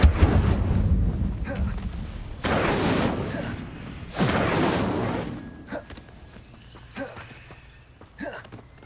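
Incendio fire spell cast in the Hogwarts Legacy video game, three loud roaring whooshes in close succession, followed by quieter clicks and small effects.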